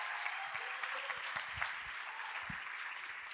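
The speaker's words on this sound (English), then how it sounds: "make an applause for the first datamorphed NFT in the world" Audience applause for an NFT demo at a closing ceremony, a steady wash of many hands clapping at moderate distance, dense and even throughout with no talking.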